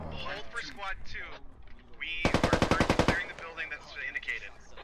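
A rapid burst of automatic gunfire in the video game Squad, about a second of loud, evenly spaced shots between stretches of talking.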